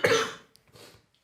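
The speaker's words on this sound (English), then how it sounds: "I'm going to cough." A single harsh cough up close, followed by a softer second cough or throat clear after a short pause.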